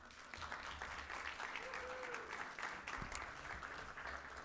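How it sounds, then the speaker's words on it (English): An audience at a business leaders' CEO roundtable event applauds steadily, a sustained wash of clapping from many hands at moderate volume throughout. "So give a round of applause for yourselves."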